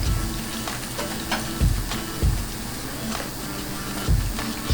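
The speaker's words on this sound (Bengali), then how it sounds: "আলুগুলো নেড়ে ছেড়ে ভালো করে ভেজে নেব। এর মধ্যে অ্যাড করে দিচ্ছি ঝিঙে, বেগুন আর পেঁয়াজ।" Potatoes, ridge gourd, eggplant and onion frying in fish oil in a pan, a steady loud sizzle with occasional thumps of stirring, no talking.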